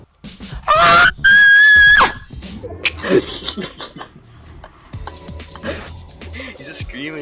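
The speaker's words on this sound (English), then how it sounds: "He's just screaming." A man screams loudly in several long, strained bursts during a rowdy online chat, followed by scattered laughter and chatter from others.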